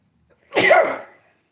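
A single close sneeze from one person, a sharp burst lasting under a second with nothing else around it.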